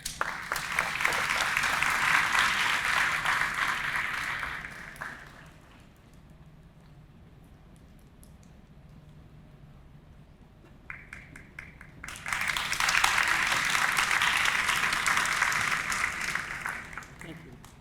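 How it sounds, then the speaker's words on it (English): An audience at a graduation and achievement ceremony claps loudly for about five seconds, goes quiet for several seconds, then breaks into a second sustained round of applause. "I want you all to give them a big round of applause"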